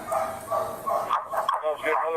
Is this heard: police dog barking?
yes